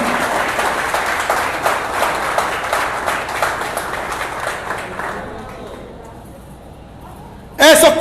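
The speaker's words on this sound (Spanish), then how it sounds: "Denle un aplauso al Señor Jesucristo." A church congregation applauds loudly with sustained crowd clapping that gradually fades over several seconds, and a voice cuts in abruptly at the end.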